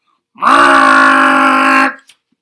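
A single long, droning vocal groan, loud and close, imitating Truffula trees being chopped, held steady for about a second and a half before cutting off.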